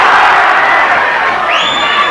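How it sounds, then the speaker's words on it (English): A boxing crowd at a super bantamweight championship bout roars and cheers loudly and steadily throughout, a dense wall of voices with a rising whoop near the end. "The crowd roar every success of Brodie when he comes in"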